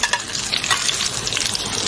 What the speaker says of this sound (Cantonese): 我哋將嗰四面咧都將佢咧煎到金黃色